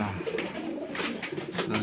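A dovecote full of pigeons gives off a constant low cooing murmur, many birds calling at once nearby with occasional rustles and brief sharper noises over the hum.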